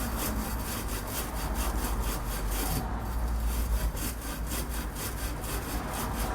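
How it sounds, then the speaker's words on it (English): A scouring pad rubbing the end of a 22mm copper pipe clean before fitting a gate valve, a continuous loud rapid scrubbing rhythm close up with one brief pause. "Clean it up with a bit of scouring pad."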